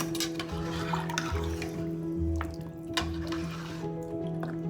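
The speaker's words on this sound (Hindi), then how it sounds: "तो यहाँ मैं 2 कप पानी ऐड कर रही हूँ।" Water added to a pot of aloo gosht, a close, wet splashing and pouring with dripping and clinks of the cookware, alongside a steady kitchen hum and intermittent low thumps.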